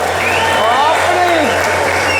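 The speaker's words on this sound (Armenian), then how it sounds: "լավ վերջնական հավեսով ծափ" Audience applause as a steady wash of clapping throughout, with voices and cries rising over it.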